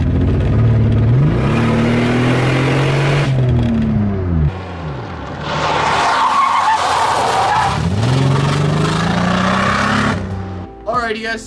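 Cheap $400 race car skidding hard with tires squealing while the engine revs up and down, loud and close, with sliding pitch sweeps repeating over several passes.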